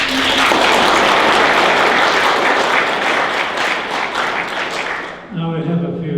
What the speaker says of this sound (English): I think we applauded you when you stood up, and we haven't done it for the others.